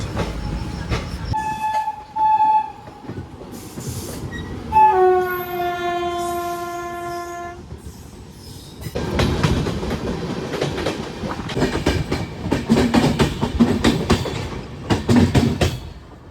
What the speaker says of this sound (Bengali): ট্রেন এখন ছেড়ে বেরিয়ে গেল মালদা টাউন স্টেশন